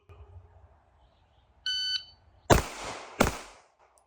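A single short electronic shot timer beep, followed quickly by two sharp, loud gunshots about a second apart, each with a brief echoing tail.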